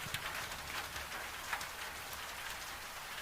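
Steady rain falls outside a Scottish farmhouse, a soft, constant patter and hiss at low volume with no voices and no breaks.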